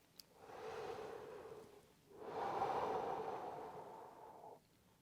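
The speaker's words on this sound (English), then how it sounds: "So we'll simply take the air in and blow it back out like this." A trombone player demonstrating a relaxed breath: one slow inhale, then a longer exhale blown out steadily, soft and close, with a short pause between the two.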